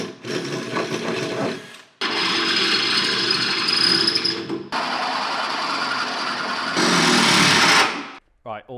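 A power drill bores holes through brackets for a car's subframe in a workshop, sounding in several long, loud, steady whirring bursts separated by brief pauses.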